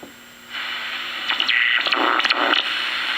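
Shortwave radio static on the 2 MHz band swells in as a steady hiss, with warbling, chirping data bursts stuttering over the noise.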